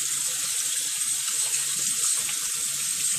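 A shaving brush rinsed under a running tap: a steady hiss of flowing water with faint gurgling underneath, continuous and close.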